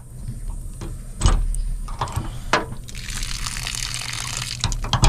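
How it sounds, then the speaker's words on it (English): Clean water runs from a hose at a campsite in Kruger National Park, a steady moderate splashing flow with a few clunks, growing brighter and louder partway through. "Okay, that's done now, so we've got nice clean water coming out of there."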